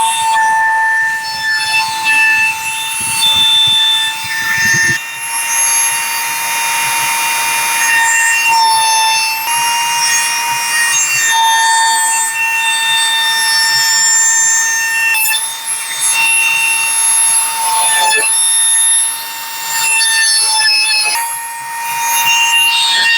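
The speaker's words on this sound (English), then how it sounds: "We've just got a router here." A router trims the edge of a laminate countertop with a loud, continuous high whine, its pitch dipping and recovering as the bit cuts along the edge.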